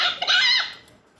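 A single short chicken cluck or squawk from a 2001 Playhouse Disney farm video game, bright and close, fading out within about a second.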